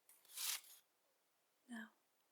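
Tarot cards of a Dungeons and Dragons themed deck are shuffled in two soft bursts, a longer riffle of papery rustling followed by a short second flutter, close and quiet with no talking.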